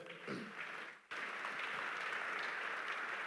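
A church congregation breaks into applause, a brief sustained burst of clapping from many people in a large room, with a short pause before the clapping swells again, steady and moderately loud.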